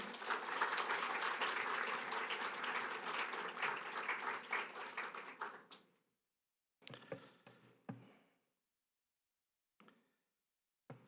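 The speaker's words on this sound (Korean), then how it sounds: "목사님 격려하는 의미에서 환영하는 의미에서 박수로 모시겠습니다" A church congregation applauds to welcome a visiting guest pastor at a Sunday worship service, dense steady clapping for about six seconds that stops abruptly, followed by a few scattered faint claps and rustles.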